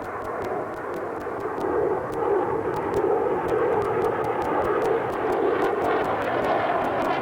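An F-16 fighter jet flying at the Farnborough airshow gives a steady, loud broadband roar that holds throughout, with faint crackling ticks on top and no talk.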